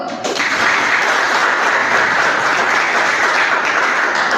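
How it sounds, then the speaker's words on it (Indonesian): Loud, sustained applause fills a classroom during a student teacher's practical assessment lesson, steady and dense from start to finish with no talk over it. "Dari tepuk tangan dulu."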